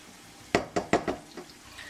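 Pork chops in cream of celery soup are stirred in a pan, giving four or five quick wet knocks and scrapes of a utensil in close succession, moderately loud, followed by quieter shuffling.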